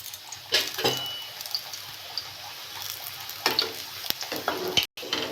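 Maida paratha fries in a pan with a soft, steady sizzle, broken by a few louder scraping or flipping bursts and brief clicks near the end.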